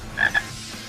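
A single short frog croak, a quick double-pulsed rasp, heard alone and fairly close.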